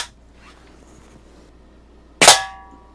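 A Daisy 853 air rifle fires a pellet into a root beer can at night: after a quiet stretch, one sharp loud crack with a ringing metallic tail, close by.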